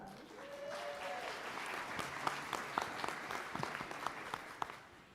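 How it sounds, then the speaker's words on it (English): A faculty and staff all-hands meeting audience claps at moderate level, a soft, diffuse patter of hands with a few sharper individual claps standing out near the middle and end. "some of that applause really gets directed back to you"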